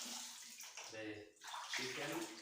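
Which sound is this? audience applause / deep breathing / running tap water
running tap water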